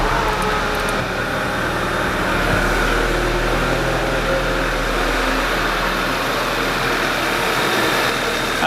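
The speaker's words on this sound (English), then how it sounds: "we're going to start the engine and just put some loads on" A car engine idles with the heated rear screen switched on as an electrical load, producing a steady, low, continuous hum and rumble with no change in speed.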